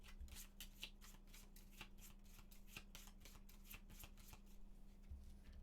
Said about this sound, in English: We're going to shuffle these up.